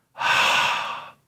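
A single forceful exhale, a breathy rushing push of air lasting about a second, close and alone, demonstrating pushing up to breathe out.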